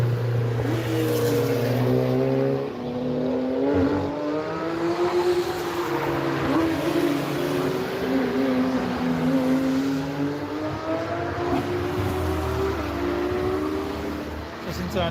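Race cars at the Nürburgring circuit roar past with rising and falling engine pitch, a continuous loud drone of revving and accelerating motors throughout, with a voice talking over it.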